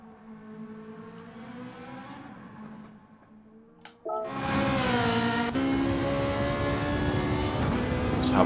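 Ferrari GT3 race cars lapping the full Nürburgring Nordschleife in a racing video game: a quieter engine note for four seconds, then a loud, steady, harmonic engine roar sustained to the end.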